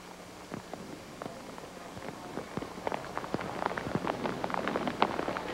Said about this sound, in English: Heavy rain falling now.